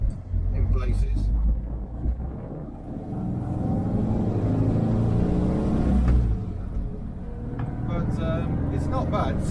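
Volkswagen Split-window Kombi with swing axle rear suspension driving, a steady low engine drone and road rumble filling the cabin throughout, with someone talking over it.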